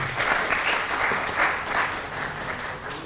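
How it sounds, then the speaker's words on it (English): An audience at a national security question-and-answer session applauds the panelists, a sustained, full round of clapping from a sizable crowd in a hall. "please give them a big round of applause"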